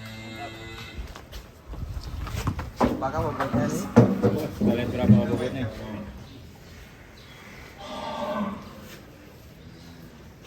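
A sacrificial cow lows in deep, drawn-out moos nearby while being unloaded from a truck, people talking over it in a busy outdoor setting.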